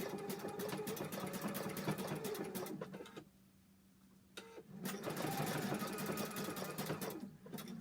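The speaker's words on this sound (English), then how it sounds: "I'm just going to do a zigzag stitch on here" A domestic sewing machine runs a zigzag stitch through soft toy fabric in close, fast rhythmic bursts, pausing briefly in the middle before whirring on again.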